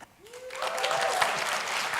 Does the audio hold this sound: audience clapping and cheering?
yes